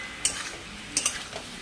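Ash gourd and fried mung dal are stirred in a pan, giving a few light, quiet scraping clinks of a utensil against the pan in an otherwise soft kitchen background.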